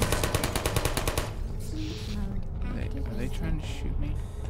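Portal turrets fire a fast rattling burst at the player, loud and close, then cut off as a person talks over lingering game sounds.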